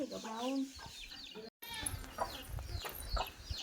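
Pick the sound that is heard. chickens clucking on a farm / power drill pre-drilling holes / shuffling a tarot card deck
chickens clucking on a farm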